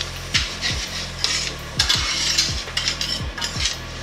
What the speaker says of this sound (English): let's give these a quick little stir